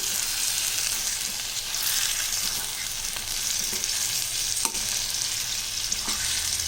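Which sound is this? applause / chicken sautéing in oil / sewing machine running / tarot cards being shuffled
chicken sautéing in oil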